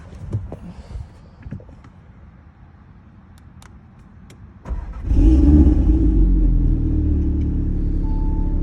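A few faint clicks and taps, then a 2018 Audi TT RS engine, flex-fuel tuned, cranks and fires up, settling into a deep, loud, rumbling idle.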